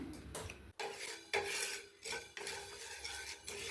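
Half a cup of black peppercorns dry-roast in a pan while a spoon stirs and scrapes them in quick, gritty, rattling strokes. The sound is quiet and close, with no talking.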